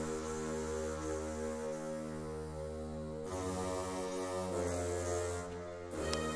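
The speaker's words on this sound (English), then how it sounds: "So we have this flute, and we have this bassoon" A sampled woodwind bassoon, from a hybrid trap production, plays low, reedy, sustained notes that shift pitch a few times, rich in buzzing harmonics and heard alone without talk.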